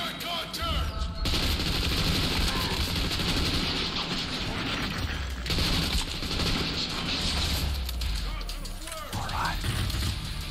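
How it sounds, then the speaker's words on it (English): Enemies fire flares in Trepang 2 amid a loud, continuous clatter of gunfire and bursts, dense and harsh throughout with a few short dips, while a voice can be heard underneath. "Stop shooting your flares at me, guys!"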